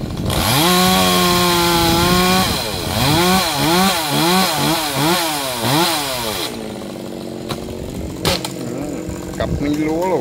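A G4200 chainsaw cuts a large branch of a yellow-flowered melaleuca tree, its engine revving loud and close in rising and falling bursts, then idling down near the end, with a few clunks after.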